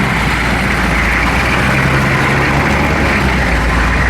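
Honda Pioneer 1000 side-by-side, a 72-horsepower fuel-injected machine, driving at 10,000 to 11,000 feet in the Rockies; a steady, close engine drone with a low rumble runs without a break and no one speaks.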